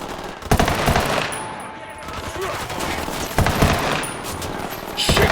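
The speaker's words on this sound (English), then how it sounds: "I'm opening fire." Loud automatic gunfire erupts in the tactical shooter Ghost Recon Wildlands, with sustained bursts opening sharply, thinning out in the middle, then returning in heavy volleys, and a voice speaks briefly amid the shooting.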